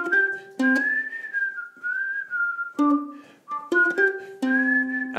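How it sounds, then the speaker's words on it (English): Clear whistled melody for a pop song, played alongside ukulele picking, with sustained pitched notes in several phrases separated by short pauses and soft plucked strings beneath. "and then you're whistling at the same time"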